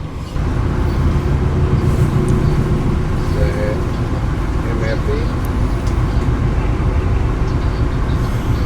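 Senja Utama Solo train pulling out of Purwokerto station at night, a loud continuous low rumble of wheels and engine with faint squeals, heard from on board as a voice talks over it.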